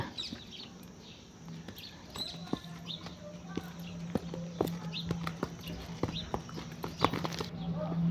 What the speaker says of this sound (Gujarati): હવે આપણી ઘોડી હાલવાની છે આગળ બે પગે